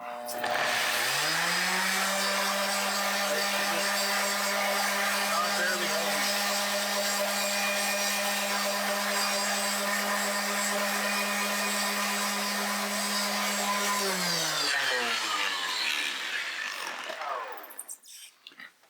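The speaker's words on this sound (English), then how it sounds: "So all I'm using is the weight of the sander for this" An electric sander whirs loudly and steadily on a wooden end-grain cutting board under light pressure for a long stretch, then spins down and stops near the end.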